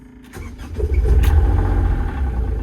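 A brand new digger's diesel engine cranks and catches, then settles into a loud, steady low rumble close by.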